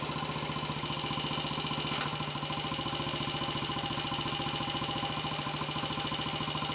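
A Royal Enfield 250 five-speed motorcycle with a faulty third gear runs steadily nearby, its single engine thudding in a fast, even rhythm with a faint mechanical clatter and no talking.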